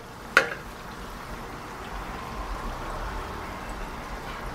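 Biscuits fry in a shallow layer of oil in a pan, giving a steady soft sizzle after a single sharp clink near the start.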